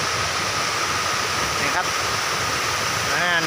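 A waterfall pours down a mountainside in a Phetchaburi forest, giving a steady, dense rushing roar that fills the whole clip, with someone talking faintly over it near the end.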